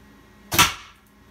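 Arrow tipped with a 600 grain Bishop broadhead striking a buffalo shoulder blade, a single sharp close impact crack that decays quickly, with no talking.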